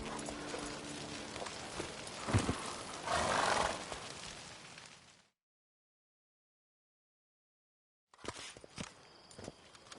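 Roach, a horse in The Witcher 3: Blood and Wine, walks with steady clip-clop hoofbeats and gives a loud snort or whinny, then falls silent before hooves and movement resume.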